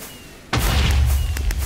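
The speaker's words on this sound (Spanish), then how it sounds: "¿Explosiones por todos lados?" A sudden loud boom erupts after a brief quiet moment, then a rumbling roar continues with a few sharper pops, close and heavy, in the video game Guardians of the Nether.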